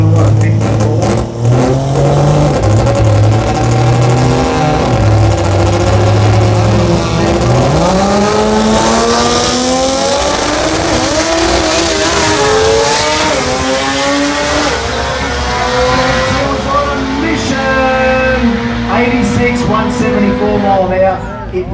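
Drag race cars at the Garrett Brisbane Jamboree idle, then roar off the line with loud, rising engine howls that climb steadily through the run, while a commentator talks over the noise.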